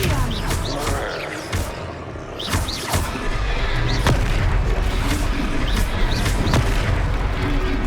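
Spell-casting effect for the Expelliarmus charm in the Hogwarts Legacy video game, a series of booming whooshes and sharp magical bursts over a rumbling game soundtrack, with brief voices around them.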